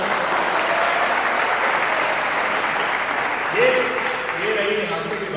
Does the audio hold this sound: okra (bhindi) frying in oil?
no